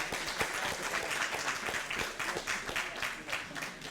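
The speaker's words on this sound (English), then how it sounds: "Give Alex a round of applause." Applause from a community audience at a utility heat pump presentation, a moderate steady patter of many hands, fairly even in loudness from start to finish.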